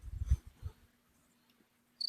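A voice imitates crickets chirping as a stand-in sound effect, a few low close bursts followed by quiet, then a brief high chirping trill at the end.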